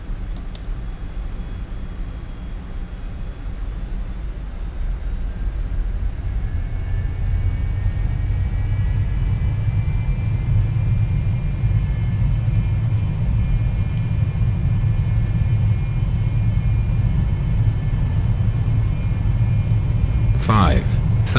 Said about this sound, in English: And we'll take off.